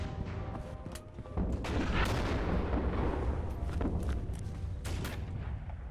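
Steady battlefield gunfire from the World War II shooter Red Orchestra: Ostfront 41-45, with sharp rifle cracks and distant booms over a dense continuous rumble of combat, close shots standing out against the background.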